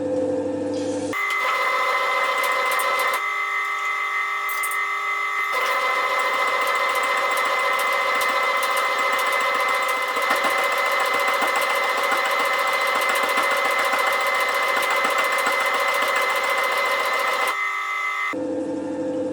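A small metal shaper machine takes a deep cut while shaping a gear, giving a loud steady mechanical drone with rapid ticking strokes that runs for most of the span, then stops briefly before starting again.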